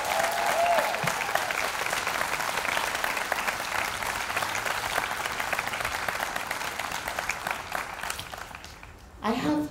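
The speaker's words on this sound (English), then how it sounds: "Can we please give Jade and Gordon another round of applause?" A graduation audience gives sustained, even applause in a large room, with dense clapping that continues for several seconds before tapering, and a brief voice breaking in at the close.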